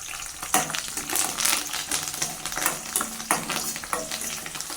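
Garlic and curry leaves fry in a pan with a continuous crackling sizzle, punctuated by repeated spatula scrapes at a loose, uneven rhythm.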